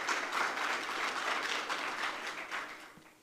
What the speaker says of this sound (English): So a big round of applause, please, for our two